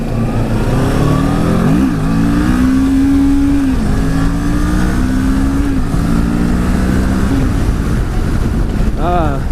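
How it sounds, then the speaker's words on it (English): A loud pickup truck revs and accelerates, its engine pitch climbing and dropping through gear changes, with heavy wind rumble over the microphone. "That's one loud pickup, Jesus."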